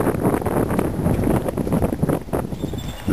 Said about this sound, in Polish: co chwila podmuchy wiatru, ponad 30 węzłów